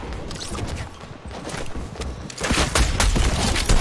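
Gunfire rattles in the video game Fortnite, dense bursts of shots that grow louder toward the end, with no talk over them.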